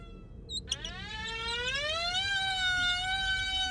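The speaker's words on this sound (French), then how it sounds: "C'est une alarme, monsieur." A security perimeter alarm blares in an animated setting, a loud electronic siren tone that sweeps upward and then holds a steady, wailing pitch rich in harmonics.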